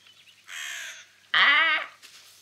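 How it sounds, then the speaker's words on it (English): A crow caws twice in the Helheim Hassle video game, two loud, harsh, drawn-out calls close by, the second louder than the first, with quiet in between. "It's a crow."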